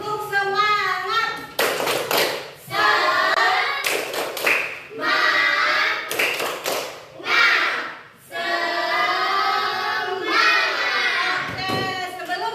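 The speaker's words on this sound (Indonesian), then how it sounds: "Tepuk semangat." A school class does a rhythmic spirit clap. Sharp bursts of clapping in unison alternate with children chanting loudly together.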